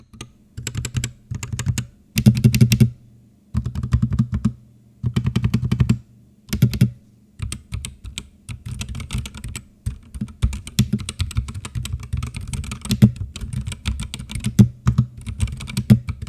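Clicky keys of a Ranked Supernova S60 mechanical keyboard, before modification, clatter in quick bursts, pausing briefly between runs, then continuing as steady close-up typing.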